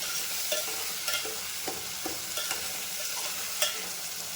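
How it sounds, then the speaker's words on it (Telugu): Finely chopped tomatoes frying in a pan and stirred, a soft continuous sizzle broken by repeated clinking utensil scrapes at an uneven pace, close and fairly quiet, no talk. "సన్నగా తరిగి పెట్టుకున్న టమాటోని ఇప్పుడు ఈ రెండు బాగా మిక్స్ చేసి, టమాటో కొంచెం సాఫ్ట్ అయ్యేంత వరకు ఉండాలి"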